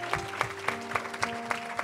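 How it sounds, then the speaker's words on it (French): Rhythmic congregational hand clapping at a church healing service, seven steady claps about a quarter second apart over a sustained sung or organ tone, full and close. "Let's give a hand clap."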